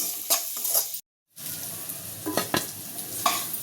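Macaroni pasta frying in a pan with salt and pepper, a steady close sizzle with stirring scrapes, broken by a brief silent gap before the frying noise resumes.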